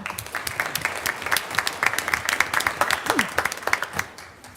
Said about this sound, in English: So I just want to give a round of applause once again to Miss Meeks at Stone Middle School